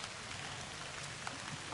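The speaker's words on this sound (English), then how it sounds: "and it's raining." Rain falls steadily in autumn woods, a dense even hiss of drops on leaves with occasional nearer patters, no voices.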